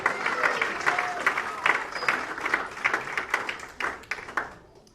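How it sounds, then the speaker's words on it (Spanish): A church congregation applauds during a worship service, a steady wash of many hands clapping at moderate distance for about five seconds before fading out at the end. "Dale el aplauso a Cristo porque Él es bueno."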